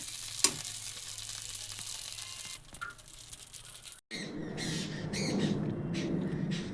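Oats idli frying in a pan after being flipped, a soft crackle at first, then a louder steady sizzle and spitting after a short gap, with no voices.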